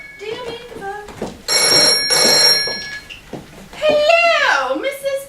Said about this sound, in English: Oh, dear me, the phone.